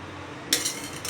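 Fried spices tipped into a mixer grinder bowl, giving two bright metallic clinks and rattles, the first louder and the second short and fainter, over a quiet background.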